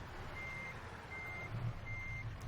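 A Kenworth T680 sleeper semi truck reverses in American Truck Simulator, its backup alarm giving three evenly spaced high beeps over a steady low engine idle rumble, with no talking.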